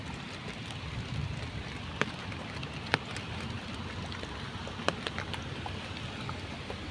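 Steady rain hisses and patters outdoors, a dense continuous wash with a few sharper drips landing nearby.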